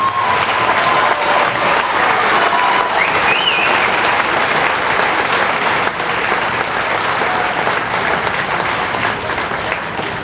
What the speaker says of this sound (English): Let's all get down on the well-served round of applause.